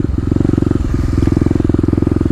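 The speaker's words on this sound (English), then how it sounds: "Popping the clutch out a bit." Kawasaki KLX250 dirt bike engine with the clutch being popped out during warm-up, a loud, close rapid single-cylinder chugging that dips briefly and then pulses on steadily.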